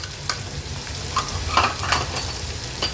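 Chopped onion with crushed ginger, garlic and chili paste frying in a pan over a low flame, a steady close sizzle with light scraping stirs.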